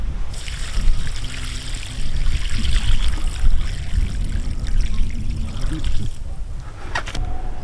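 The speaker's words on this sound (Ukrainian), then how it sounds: "Коли залили нашу каструльку водою" Water pours steadily into a pot of oyster mushroom growing substrate with a continuous splashing trickle, close and fairly loud, then eases off near the end.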